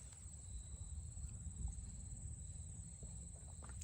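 Crickets chirping outdoors among grass and trees, a faint steady high trill running throughout over low background rumble.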